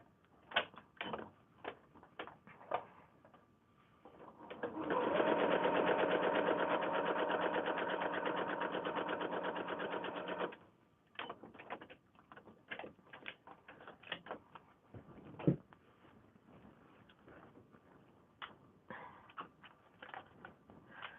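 Sewing machine stitching a foundation paper-pieced kimono quilt block, one steady run of about six seconds between scattered clicks and handling noises, fairly quiet.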